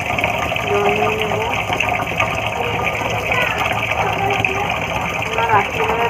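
Water runs steadily and continuously into a pot of washed rice, a gushing pour heard throughout alongside a voice talking.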